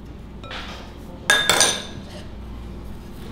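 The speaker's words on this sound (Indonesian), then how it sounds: "Aduk terus sampai kecampur." Cronut dough being mixed in a bowl, with a brief pair of sharp metallic clinks of a utensil against the bowl amid quiet background, no talking.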